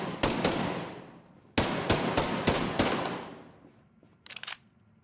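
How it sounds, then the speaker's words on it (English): Bursts of automatic gunfire in a Ghost Recon: Breakpoint shootout, two long sustained rattling volleys separated by a short pause, then a brief fainter burst near the end, loud and close with no talking. "It's a little shootout."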